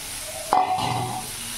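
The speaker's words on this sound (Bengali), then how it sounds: "ভালো করে নাড়াচাড়া করে নিলাম।" Fried cauliflower florets stirred into a sizzling spice mix, a single sharp scrape of the spoon followed by a steady close frying hiss, with no talking.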